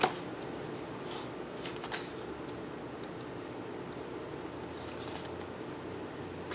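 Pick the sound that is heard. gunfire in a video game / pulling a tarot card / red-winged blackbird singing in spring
pulling a tarot card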